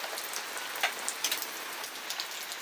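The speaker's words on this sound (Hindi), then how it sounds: "बारिश जो है लगातार चल रही है" Steady rain patters on surfaces outdoors during a power outage, a dense continuous hiss with occasional sharper drops striking close by.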